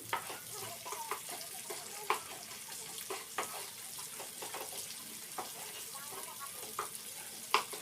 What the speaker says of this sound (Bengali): পেঁয়াজটা হালকা করে একটু ভেজে নিচ্ছি